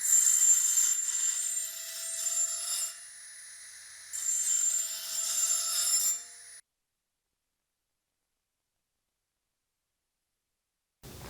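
Nakanishi Emax EVOlution micro-grinder deburring metal: a steady high-pitched whine with scraping grit in two bursts of about three and two seconds, then silence.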